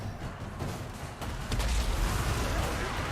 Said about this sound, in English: Let's see those explosions.